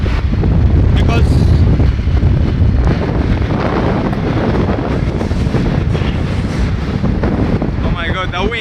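Strong wind blasts straight into the microphone beside a road in Uganda, a loud, constant rumbling roar with gusty surges that buries the background.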